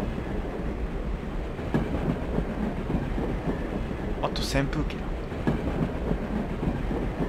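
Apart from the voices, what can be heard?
train running on rails, from a video game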